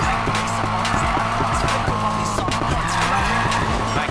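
A car drifting in the Need for Speed Payback video game, its engine roaring loud and close with continuous tire squeal as it slides through linked turns, steady and unbroken throughout.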